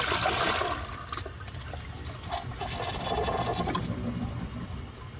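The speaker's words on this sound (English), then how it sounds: "For the first flush test, let's see how it flushes with a dry bowl." A defective 1996 Crane Hymont toilet flushes with a dry bowl, a loud rushing gush of water at the start that settles into a weaker, steady swirling trickle, with no siphon surge.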